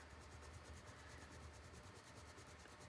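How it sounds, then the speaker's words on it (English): Erasable ink being rubbed off paper, a steady close scratchy friction that runs continuously without pause. "You do have to kind of rub at it a little bit"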